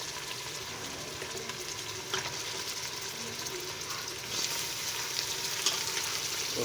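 Chicken frying in a pan gives off a steady, moderate sizzle that continues throughout, with faint stirring clinks scattered over the sound and no one speaking.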